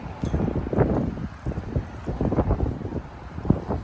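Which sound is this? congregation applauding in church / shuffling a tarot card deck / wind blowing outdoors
wind blowing outdoors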